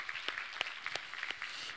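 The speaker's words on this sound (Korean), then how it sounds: "우리 주 예수 그리스도께 찬양과 감사와 영광의 박수 올려드리겠습니다" A church congregation applauding after a sermon reading, a short burst of scattered, fairly faint hand claps in a large room, with no one speaking.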